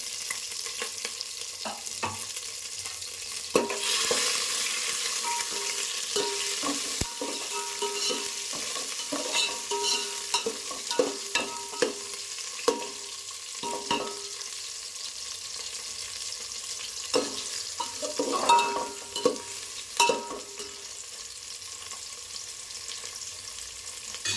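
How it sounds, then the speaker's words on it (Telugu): Chopped onions sizzle and fry in a hot pan for a home-cooked chicken curry, with steady crackling and repeated clatters of stirring, close and loud, with no talking. "మనం కట్ చేసి పెట్టుకున్న ఆనియన్ వేసుకుంటాం"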